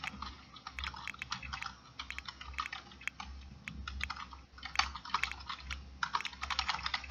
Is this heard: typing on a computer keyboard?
yes